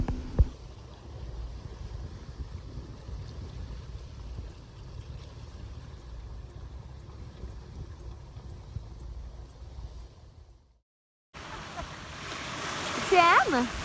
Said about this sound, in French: ça faisait vraiment longtemps qu'on n'avait pas fait de voile pour le plaisir de faire de la voile